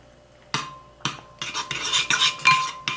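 A spoon scoops hair mask into a bowl, with sharp metallic clinks and scrapes coming in quick irregular bursts, close and clear against near silence.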